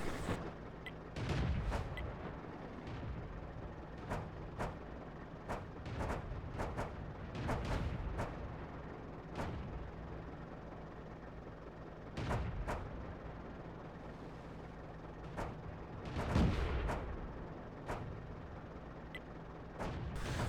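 Tank guns fire during a World of Tanks battle on the Malinovka map, heard as scattered booming shots and sharp cracks, some close and loud, others more distant, spaced irregularly over a low steady rumble.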